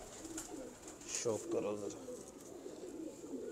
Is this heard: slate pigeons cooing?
yes